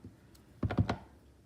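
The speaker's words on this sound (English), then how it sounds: "Let's stamp these down just a little bit." Paper pieces stamped down by hand during a paper craft session, giving three quick close thuds in a row, loud and alone against a quiet background.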